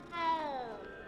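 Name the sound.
cat meowing in Hogwarts Legacy video game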